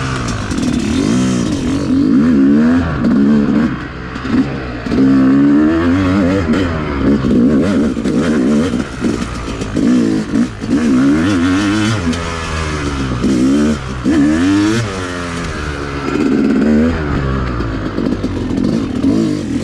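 A Yamaha YZ250X two-stroke dirt bike rides a muddy single-track trail up close, its engine revving and bogging in constant loud swells as the throttle rises and falls, with clattering from the chassis and no talk.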